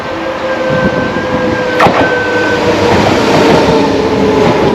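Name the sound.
train arriving at a station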